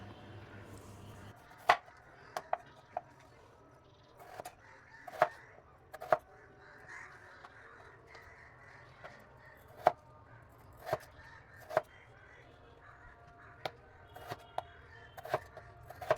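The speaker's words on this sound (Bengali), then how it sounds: "এবার লম্বা লম্বা করে ছুরি দিয়ে কেটে নিচ্ছি" A peeled large potato cut into long strips with a knife beside soaked drumsticks, giving sparse, irregular sharp knocks of blade on board, close and clear over quiet background.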